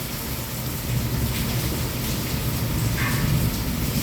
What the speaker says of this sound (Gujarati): વીજળી સાથે વરસાદ પણ ચાલુ છે